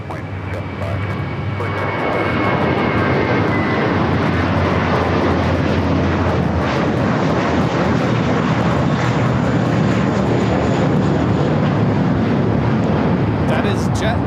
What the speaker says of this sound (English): taking off to Fort Lauderdale on an A321